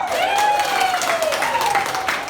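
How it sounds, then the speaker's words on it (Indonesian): A classroom gives a short burst of clapping for a young student named Rosita during a lesson on compass directions, dense and steady for a couple of seconds, with a thin sustained tone running beneath the claps. "tepuk tangan buat Adik Rosita"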